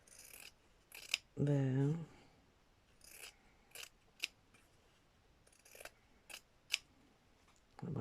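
Scissors snip through fraying fabric or ribbon for a handmade tag, a few sharp close cuts spaced across the moment, with a brief spoken word and a short hum-like rustle in between.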